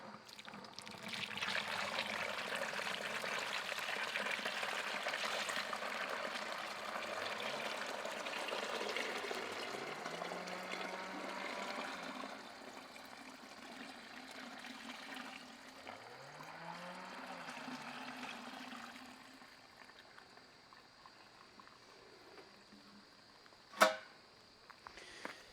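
Hot melted beeswax pours from a pot through a strainer in a steady trickling stream for about twenty seconds, thinning and quieting toward the end, followed by a brief sharp clink.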